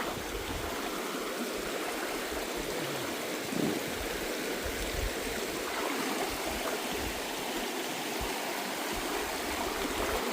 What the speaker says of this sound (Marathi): आवाज बघा पाण्याचा कसा येतोय